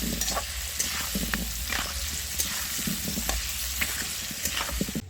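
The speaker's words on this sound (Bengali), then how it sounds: "লবণ আলুগুলোকে ভালো করে লাল লাল করে ভেজে নিতে হবে" Potatoes with salt and turmeric frying in a pan, a loud close sizzle running throughout with regular stirring scrapes.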